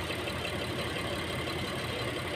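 A Mitsubishi Pajero engine running at idle during fuel injector cleaning, a steady, continuous mechanical drone heard close up and unchanging throughout, with no voices.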